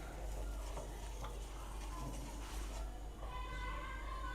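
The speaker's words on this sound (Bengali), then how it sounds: "চিনিটা দিয়ে আরও একটু আমি নাড়বো আরও একটু ঘন হবে" Milk with sugar stirred in a pan as it thickens, a soft continuous scraping and faint simmer hiss with a few light utensil taps, close and fairly quiet throughout.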